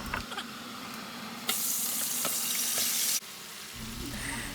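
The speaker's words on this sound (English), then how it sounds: "The oil is very hot and you can add some salt, and next you can add the lamb." Lamb dropped into very hot vegetable oil in a pot bursts into a loud, bright sizzle that holds steady for a couple of seconds before dropping back to a quieter crackle, with small kitchen clatter around it.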